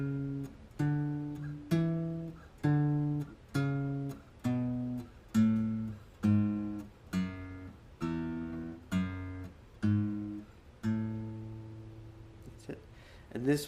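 Solo acoustic-style guitar plays a chord walk-down. About fourteen evenly spaced strums ring out one after another, each decaying before the next, with no talking over them.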